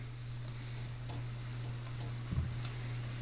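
Pheasant back (dryad saddle) mushrooms frying in butter in a pan give a steady, quiet sizzle with a strong low hum beneath it and a brief louder rustle near the end.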